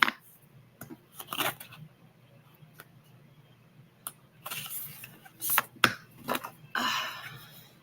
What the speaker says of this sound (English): I need to shuffle these cards before long